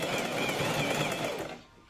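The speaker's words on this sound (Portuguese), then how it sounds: "Então pode ter uma máquina simples aí, você vai costurar bem." A sewing machine stitches a blouse in a steady, close, whirring run that slows and stops near the end.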